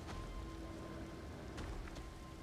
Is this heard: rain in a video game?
yes